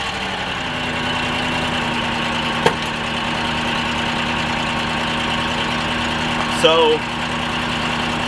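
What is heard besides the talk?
misfiring, rough-running V8 engine idling, 2008 Buick Lucerne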